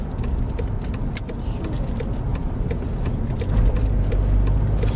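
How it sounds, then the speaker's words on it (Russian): A car passes on a road with a steady low rumble that swells toward the end. Light jangling clicks sound over it, and no one speaks. "Вот тот же, это машина"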